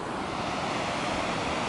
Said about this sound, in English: There's the big ass waterfall.